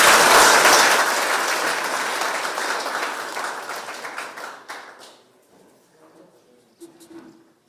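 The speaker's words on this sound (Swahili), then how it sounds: "Simpigie mama makofi." An audience applauds at a gathering at GK Mwea Prisons, a loud burst of many hands clapping that slowly thins and fades away over several seconds, leaving a few scattered claps near the end.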